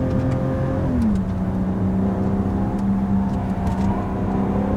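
A BMW M760Li xDrive engine pulls hard at full power, a loud sustained drone that drops in pitch at a downshift to second gear, then holds steady and strains inside the cabin without talk.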